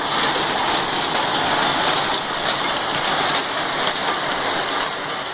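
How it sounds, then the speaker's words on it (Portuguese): Heavy Sunday rainstorm in Alfenas, a steady, loud, dense roar of downpour with no pauses from start to finish, close and enveloping, with no voices. "Este vídeo postado nas redes sociais mostra a força da chuva que caiu nesse domingo em Alfenas"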